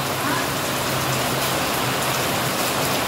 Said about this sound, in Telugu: వర్షం మొత్తం మీద చూడు, ఇంత వర్షం